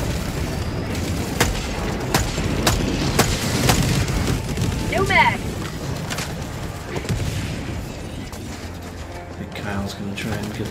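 Eagle airstrike explosions in the Helldivers 2 video game, a string of sharp booms and blasts in an uneven burst through the first half, then settling into lower rumbling, with players' voices mixed in.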